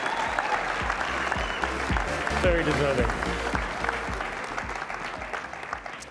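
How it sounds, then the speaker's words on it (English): Sustained audience applause fills a cricket awards ceremony, steady and dense throughout, with a presenter's voice speaking briefly over the clapping. "another round of applause"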